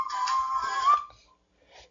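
A phone rings in a radio broadcast booth, a steady electronic tone lasting about a second, then a faint short repeat after a pause.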